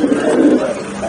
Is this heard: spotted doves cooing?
yes